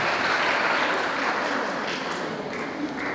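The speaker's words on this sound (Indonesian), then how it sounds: "berikan tepuk tanganmu untuk mereka yang" Sustained applause from the audience at a high school farewell and blessing ceremony for graduating students in Gunungsitoli, steady and dense throughout, easing slightly toward the end.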